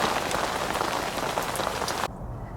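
Heavy rain drums steadily on a fishing tent during a carp fishing session on Burghfield, a dense, close, continuous patter that cuts off abruptly near the end.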